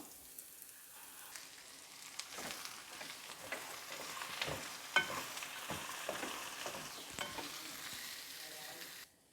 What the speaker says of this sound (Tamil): இப்போ நம்ம கட் பண்ணி வச்சுருக்க நூல்கோலை போட்டுக்கலாம்.